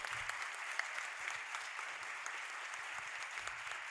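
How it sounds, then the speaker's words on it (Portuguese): A festival audience at an evening opening session applauds at length, a sustained wash of clapping heard from a distance and fairly soft, even and unbroken for the whole stretch. "Queria que vocês só aplaudissem para a gente terminar esse momento aqui com muitos aplausos"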